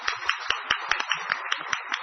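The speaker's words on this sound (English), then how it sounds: "request my team to acknowledge by way of an applause for" Audience applause for investors at a State Bank of India earnings call, a short burst of scattered, fairly quick hand claps at moderate level with no talk over it.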